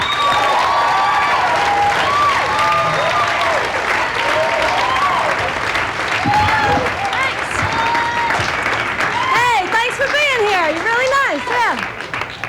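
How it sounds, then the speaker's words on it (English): A stand-up comedy crowd applauds and cheers a comedian taking the stage, sustained loud clapping mixed with whoops and shouted voices throughout. "Please, a nice round of applause for the comedy Miss Lauren Dombrowski."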